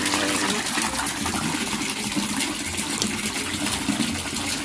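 Water gushes steadily into a large catfish pond as it is being refilled, a continuous loud, close rushing and splashing that holds without pause throughout.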